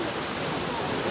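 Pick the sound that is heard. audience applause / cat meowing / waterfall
waterfall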